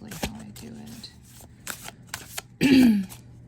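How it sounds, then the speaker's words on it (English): A tarot card deck being side shuffled, with several short riffling card clicks and then one loud, dense shuffle burst near the end, close by, with some faint voice behind it. "It doesn't side shuffle very well, so I might have trouble."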